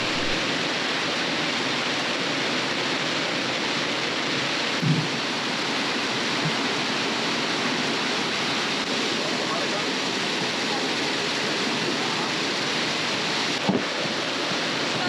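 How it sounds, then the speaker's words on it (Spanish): Heavy rain and strong wind batter an anchored sailboat in a storm, a loud unbroken roar of downpour and gusts with a couple of brief knocks and thuds against the hull. "un fuerte viento junto a mucha lluvia entró virando el barco 180 grados"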